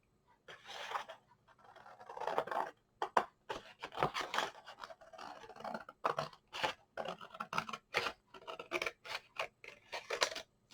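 Scissors cut a paper bouquet for a greeting card in a series of close, crisp snips and rustling paper scrapes, coming in short irregular bursts.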